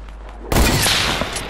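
A bomb goes off in the video game Fortnite, a sudden loud broadband blast that hits about a third of the way in and leaves a dense, roaring wash of noise that holds for the rest of the moment.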